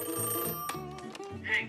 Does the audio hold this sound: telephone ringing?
yes